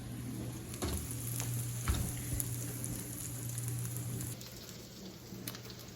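Cinnamon breakfast food sizzles in a frying pan, a close, steady crackling hiss with occasional pops and stirring, easing slightly near the end.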